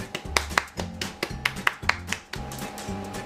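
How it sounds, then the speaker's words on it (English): Hands clapping in a quick series of sharp, close claps, about a dozen in a few seconds with an uneven rhythm, fairly loud in a quiet room. "that deserves a clap."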